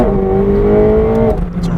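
Supercar engine revving hard with a rising, steady tone as it accelerates, loud and close, easing off near the end; a voice may be faintly present underneath.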